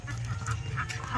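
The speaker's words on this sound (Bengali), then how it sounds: "পাতি হাঁস" A common domestic duck in a village quacks a few quick nasal calls close by over a low background drone, with no talking.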